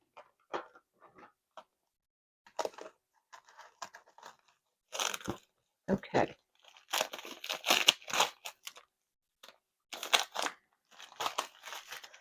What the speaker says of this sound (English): Let's see if we can get the tape off here.